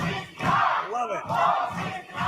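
A packed arena crowd at a live OVW professional wrestling show in Louisville, Kentucky roars and cheers loudly, the noise swelling and dipping in waves with a few shrill whistles and shouts rising above it.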